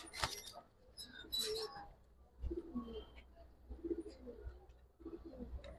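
Giribaz pigeons cooing at a pigeon market in Old Dhaka, soft repeated low coos close by, with people talking and market noise around them.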